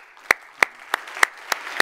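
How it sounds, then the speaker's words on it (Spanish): A congregation clapping at a church service to praise God, heard as six sharp, evenly spaced unison claps about a third of a second apart, crisp and near, with a faint reverberant room tone between them. "vamos a dar un aplauso fuerte al Señor."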